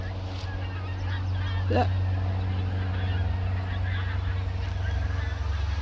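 A gaggle of geese honking at a distance outdoors, brief calls rising over a steady low engine-like drone, with a short spoken word.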